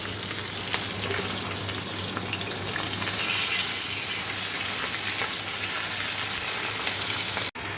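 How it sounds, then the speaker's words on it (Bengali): Hilsa fish heads fry in hot oil with a loud, continuous, close sizzle that holds steady from start to finish, with no talk. "ইলিশ মাছের মাথাটা ভাজা বসিয়ে দিয়েছি"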